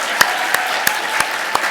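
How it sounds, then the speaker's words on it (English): An audience at a genetic counseling award ceremony applauds in a steady, dense wash of clapping, with a few sharper individual claps standing out at regular intervals. "Please give these dedicated genetic professionals a round of huge applause."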